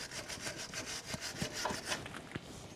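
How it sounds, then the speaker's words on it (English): A rusted car part is scrubbed with quick, rhythmic rasping strokes, a steady back-and-forth scraping heard close but at low volume. "Give it a little scrub."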